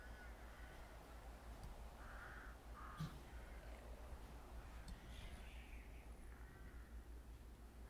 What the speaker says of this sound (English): I just hear birds.